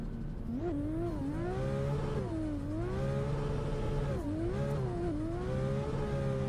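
A 2JZ-engined Lamborghini in a racing sim revs hard and steadily, its engine note climbing in pitch, dipping at each gear shift and rising again, loud and continuous throughout.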